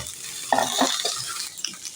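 Boiled potato and carrot pieces tossed in a pan with fried onions and green chillies make a soft sizzle under brief scraping stirs of a spoon.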